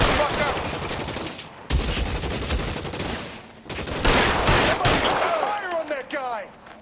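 Rapid gunfire crackles through a firefight in the L.A. Noire video game, with dense bursts of shots in several volleys. Brief whizzing ricochets come near the end.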